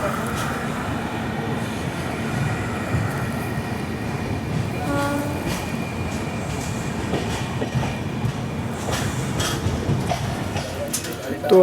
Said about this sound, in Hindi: माजरी जंक्शन को स्किप कर रही है विशाखापट्टनम हजरत निजामुद्दीन स्वर्ण जयंती सुपरफास्ट एक्सप्रेस